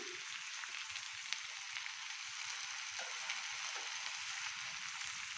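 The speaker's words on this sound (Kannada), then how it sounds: "ನಾನು ಇದು ಬೂದುಗುಂಬಳ ಇತ್ತು, ಅದನ್ನು ಹಾಕಿದ್ದೀನಿ. ಇದು ಸ್ವಲ್ಪ ಫ್ರೈ ಆಗಲಿ." Chopped ash gourd frying in oil in a pan, giving a steady, close hiss of sizzling that holds level throughout with only faint low murmurs beneath.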